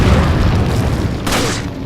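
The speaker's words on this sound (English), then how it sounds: "let's use that hand grenade we just picked up" A hand grenade goes off in the Resident Evil 4 video game, a loud, dense boom that rumbles on for nearly two seconds with a sharper burst partway through.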